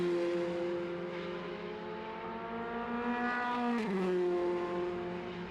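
F3 Cup race cars at Brands Hatch during a 2016 race, a loud sustained engine drone with rising and falling pitch as cars sweep past into Paddock Hill Bend, a sharp Doppler drop near the end, no voices.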